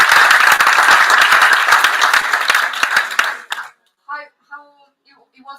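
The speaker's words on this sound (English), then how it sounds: "So a big clap to all the finalists today." Audience applause at a European awards ceremony for finalists, a dense burst of clapping hands that fades out after about three and a half seconds, followed by a few brief spoken words.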